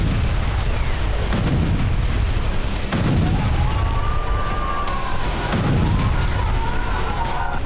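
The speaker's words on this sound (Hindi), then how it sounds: "एक के बाद एक होते ये धमाके।" Explosions go off one after another across a city, heavy low booms arriving every second or two over a constant rumbling roar, with a faint thin whine drifting in the background.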